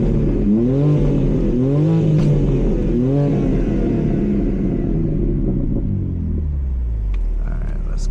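A BMW G80 M3 from 2025 with a straight pipe exhaust and valve controller, driven in sport plus on a rural road, roars loudly from up close through repeated rising revs, then drops back to a deep rumbling idle with faint crackles at the end.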